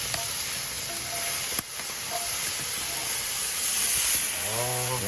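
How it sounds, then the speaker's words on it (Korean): Cheese, pork belly and kimchi pancake sizzles steadily in a pan over an outdoor wood fire on a rainy day, a continuous close hiss and crackle with a tonal whine rising near the end. "지글지글."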